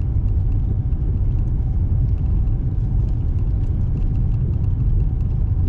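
A car drives along a snowy highway, giving a steady, loud low rumble of tires and engine from inside the vehicle with no break across the stretch and no talking.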